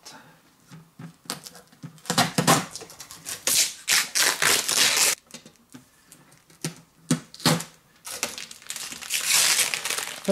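Wide packing tape is peeled in repeated crackling, tearing strips off a new Creality K1 3D printer, in several bursts with short pauses between them, close and fairly loud.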